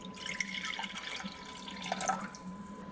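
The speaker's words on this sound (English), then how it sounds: "you want to add 3/4 cups of warm water." Warm water pours and trickles into a bowl of pizza sauce ingredients, a faint, steady splashing stream with small drips, heard up close and alone.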